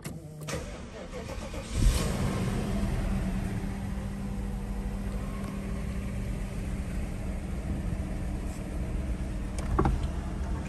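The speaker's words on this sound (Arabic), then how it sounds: "طبعا شغل لكم السيارة" A 1991 Mercedes 560 SEC cranks and fires up, then settles into a steady, even idle that stays close and continuous to the end.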